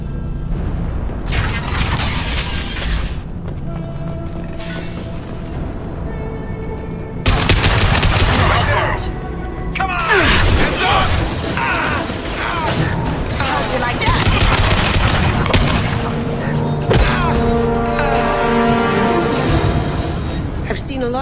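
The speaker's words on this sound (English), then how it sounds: "The Blue Suns and Vorcha are shooting anything that moves." Gunfire in the Mass Effect 2 video game, with Blue Suns mercenaries and Vorcha shooting: loud bursts of automatic fire, booms and clattering impacts in irregular clusters, close and dense, with game voices speaking over the fighting.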